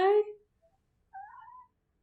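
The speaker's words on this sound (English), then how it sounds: "We got a cat." A cat wrapped snugly in a blanket gives two close meows, a loud, short one followed after a pause by a softer, drawn-out one, with quiet in between.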